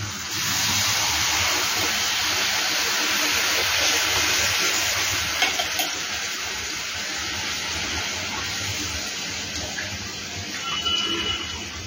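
Jaggery syrup pours into a pan of moong dal and rava halwa, a steady sizzling hiss with watery spattering that runs throughout, loud and close.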